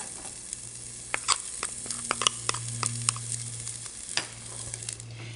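Diced yellow onion sautéing in olive oil with minced garlic, stirred with a spoon: a soft, quiet sizzle broken by irregular clicks and scrapes against the pan, heard close and alone.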